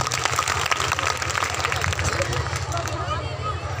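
Applause for a Punjab National Bank manager at a school poetry gathering, a steady patter of many hands clapping with crowd murmur and voices mixed in throughout.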